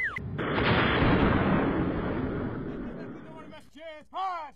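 A single heavy artillery blast at Fort Sill, Oklahoma, booms loud and near, then rolls into a long rumbling decay before a brief voice cuts in at the end.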